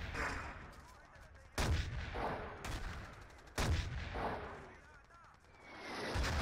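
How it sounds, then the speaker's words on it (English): Artillery shells landing in Battlefield 2 during a Conquest match: three heavy booming impacts at a few-second intervals, each trailing off into rumble, with a commentator speaking throughout. "Artillery going up for the US side, dropping it, dropping it a little farther outside the flag radius"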